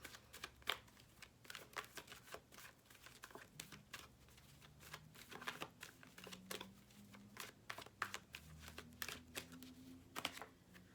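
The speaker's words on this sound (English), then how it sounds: "I'm going to shuffle some more." Tarot cards being shuffled by hand, a steady run of quick papery riffles and soft flicks over about eleven seconds, close and fairly quiet with no talking.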